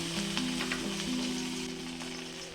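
Chopped ginger sizzles in hot oil with whole cardamom, cinnamon and cloves, a close, continuous frying hiss with a few sharp crackles early on, over a steady low hum of kitchen background.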